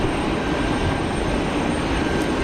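An airliner begins its takeoff roll at Geneva Airport, a loud, dense, steady engine roar filling the whole clip without letup.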